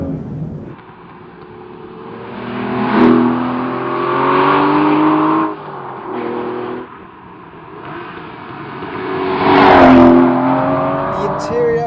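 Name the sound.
Aston Martin V12 Zagato 6-litre V12 engine driving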